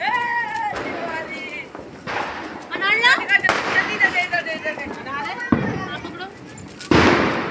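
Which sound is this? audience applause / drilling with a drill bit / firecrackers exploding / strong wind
firecrackers exploding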